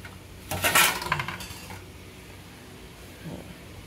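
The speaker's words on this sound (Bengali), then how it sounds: "এখন একটা ঢাকা দিয়ে একে রাখবো।" A metal lid set over a cooking pot of taro stolons: a bright clatter and rattle lasting about a second, then a quieter clink a little later over faint background noise.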